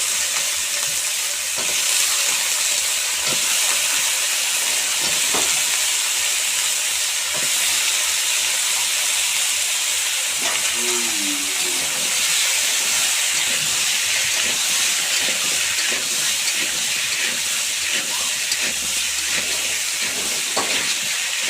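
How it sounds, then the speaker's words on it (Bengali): Cut new potatoes frying in a hot pan for a village-style cabbage ghonto: a loud, steady sizzle and hiss with occasional soft stirring knocks, no voices. "এবারে দিয়ে দেবো আলু।"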